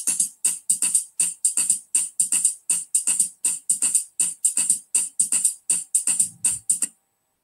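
Sharp, bright percussive clicks sound in a steady train of about twenty pulses, some louder where rhythms every 2, 3 and 4 beats coincide, alone and crisp, ending abruptly.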